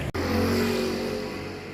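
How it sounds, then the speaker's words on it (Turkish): A car passes close by on a street in Turkey's Aegean region, its engine a loud, steady, droning roar that eases slightly as it goes, with no talking. "Bir araba bize çarpmadan"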